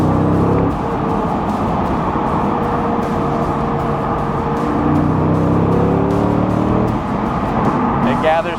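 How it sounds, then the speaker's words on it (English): Engine of a BMW Z8 roadster with a six-speed manual gearbox, in Arctic Silver, heard during a downshift at low revs. A steady, loud engine drone with shifting pitch runs throughout, and a voice talks over it. "I just wanted to show you just a little bit of like a downshift. How good that car sounds."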